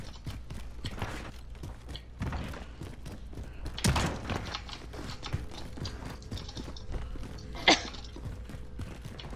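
A person coughs in one sharp burst, followed a few seconds later by a second brief outburst, both set against a steady clatter of background noise.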